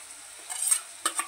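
Green chili and garlic paste added to roasted onions in a pan, soft sizzling with a few quick stirring scrapes, two sharper bursts toward the end, close and fairly quiet with no talk.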